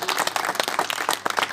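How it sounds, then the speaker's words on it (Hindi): A mushaira poetry-gathering audience claps and applauds loudly and steadily, with no talking over it. "जोरदार तालियों से इस्तकबाल कीजिए।"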